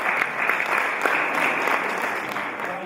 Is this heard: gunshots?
no